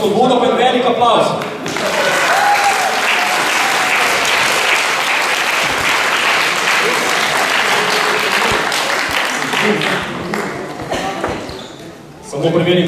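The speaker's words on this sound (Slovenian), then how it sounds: "Za začetek, za spodbudo, pa je velik aplavz." A large audience in a hall gives a big round of applause, dense sustained clapping for about ten seconds that swells and then tapers off, with a voice speaking at the start and end.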